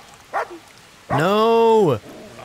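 A dog in the medieval role-playing game Kingdom Come: Deliverance gives a short yelp, then a long, loud, drawn-out whine or howl lasting almost a second, close and clear over faint game ambience.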